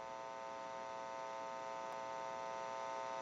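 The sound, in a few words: electrical hum from telephone test amplifier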